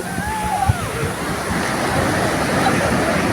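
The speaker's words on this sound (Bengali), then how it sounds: "বড় বড় ঢেউ" Big sea waves surge and wash onto Puri beach at night, a broad rushing roar that swells slightly louder toward the end, with a faint voice briefly present early on.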